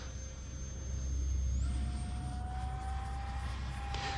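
An RC airplane fitted with a thrust tube whines past during a speed test. Its steady high tone swells and then shifts pitch as it goes by, moderately loud above a constant low background rumble.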